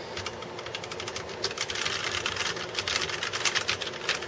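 Steady rapid typing on a Redragon K556 mechanical keyboard with non-clicky switches, a close, fairly soft clatter of keystrokes running continuously without pause.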